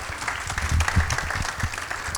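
Round of applause from the audience at a nonprofit awards ceremony, steady dense clapping held at an even level throughout, no voices on top.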